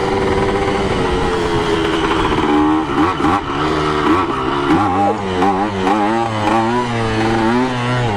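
A Kawasaki KE100 motorcycle revs hard during wheelie practice, its two-stroke engine loud and close, climbing steadily in pitch and then wavering through repeated throttle swells.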